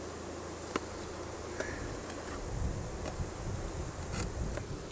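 Honey bees buzz steadily around a drum inside an old abandoned car, a soft continuous hum with occasional bees passing close and a few sharp ticks.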